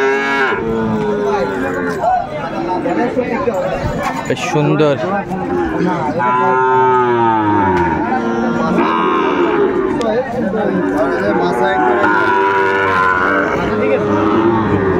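Sahiwal bull calves at the Aftabganj cattle market moo repeatedly in long, loud, low calls amid a busy crowd, with people talking close by throughout.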